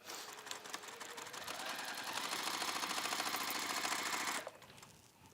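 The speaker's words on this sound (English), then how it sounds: "So we can then just quickly sew that down." An electric sewing machine runs in a fast, even buzzing rattle as it stitches down half-metre scarf fabric, ramping up over a couple of seconds, holding steady, then stopping abruptly.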